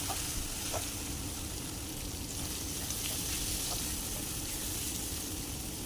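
Chicken sautéed with kasuri methi in a pan hisses in a constant, dense sizzle with faint scraping touches, steady and close, with no voices.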